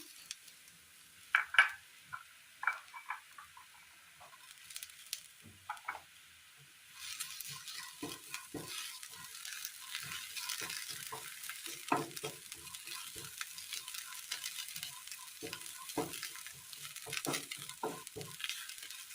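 Chopped curry leaves stir-fried in a pan for a kebab dish: soft sizzling under intermittent scraping and tapping of a spoon against the pan, quiet at first, then a more continuous sizzle with repeated stirring strokes.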